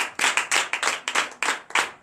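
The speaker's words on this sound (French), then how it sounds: "Pour l'acclamation Jésus." A few people clapping hands in a quick, uneven rhythm during a church service, close and crisp, with no talking.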